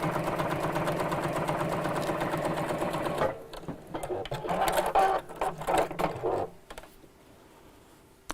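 A sewing machine stitches fabric for a gift bag. It runs fast and steady for a few seconds, then sews in shorter, uneven bursts before stopping.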